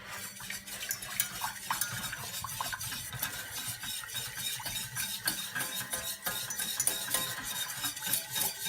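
A thickening mixture is stirred briskly in a pan on low heat, giving a quick, rhythmic scraping and sloshing that runs throughout at close range, with no voices.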